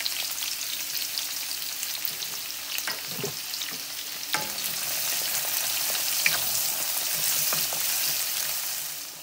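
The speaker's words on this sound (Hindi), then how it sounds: "यहाँ पर अनियन भून रही है" Chopped onion frying in oil with a pinch of asafoetida in a pan for Indian green bean sabji, a steady close sizzle that swells louder, with a few scrapes and clinks of stirring and no talk.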